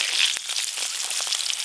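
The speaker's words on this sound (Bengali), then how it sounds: "ডিমগুলো খুব ভালো করে ভাজা হয়ে গেছে" Eggs frying in a pan give off a brief, bright crackling sizzle with quick popping spits, close and steady throughout.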